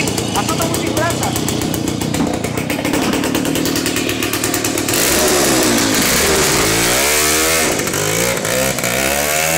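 A Jawa 20 motorcycle engine revs loudly up close, its buzzing two-stroke note rising and falling as the throttle is worked, while people talk over the constant engine noise.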